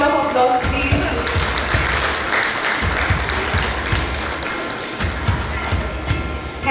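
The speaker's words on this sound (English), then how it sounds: "Give a big round of applause, please." Audience applause at a school annual gathering during a felicitation ceremony, broad continuous clapping from a large crowd in a hall, with some voices mixed in.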